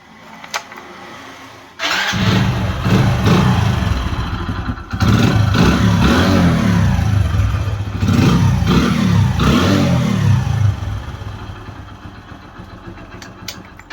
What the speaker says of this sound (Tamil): இந்த வண்டியை வந்து நம்ம வந்து ஸ்டார்ட் பண்ணி பார்ப்போம்.